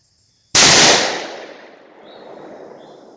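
A single sharp gunshot from a scoped rifle at a shooting range cracks loudly nearby, then fades into a lingering echo.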